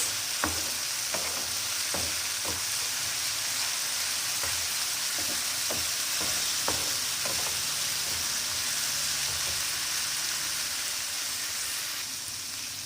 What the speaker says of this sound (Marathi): छान परतून घ्यायचं, याला स्मूथ होऊ द्यायचं सर्व